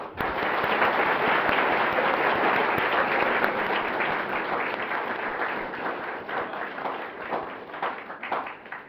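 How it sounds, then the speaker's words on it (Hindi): Audience at a panel discussion on higher education welcomes the panelists with sustained, loud applause, a dense wash of many hands clapping that holds steady before gradually thinning toward the end. "पैनल पे बैठे लोगों का हम एक बार बहुत जोरदार"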